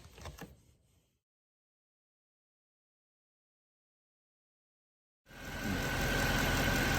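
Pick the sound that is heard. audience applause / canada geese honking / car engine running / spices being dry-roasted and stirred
car engine running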